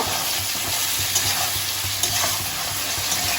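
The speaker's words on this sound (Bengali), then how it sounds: "মটরশুঁটিটা দিয়েও একটুখানি সময় আমি এইভাবে কষিয়ে নেব" Green peas sautéing in a pan with fish-head and cabbage curry spices, a steady close sizzle with soft stirring scrapes throughout and no voices.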